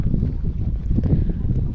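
A steady breeze over a lake at a dam jetty rushes and buffets close to the microphone, a low, continuous roar with no clear pauses.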